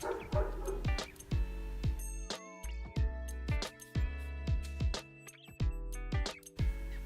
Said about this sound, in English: Sorry if you hear my sister's dogs in the background.